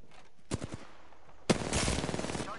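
Gunfire in the Apex Legends video game, with a short burst of shots followed by a louder, sustained stretch of rapid automatic fire that sounds close.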